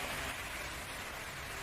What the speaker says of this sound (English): Heavy rain is pouring down so intensely that it completely obstructs visibility